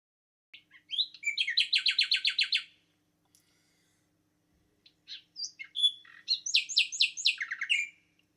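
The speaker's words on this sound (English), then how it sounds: "the screen then allows you to listen to sample songs of the birds listed" Sample bird songs play from a bird identification phone app, two bursts of rapid, high, repeated chirping notes separated by a short silence, clear and close with no other sound.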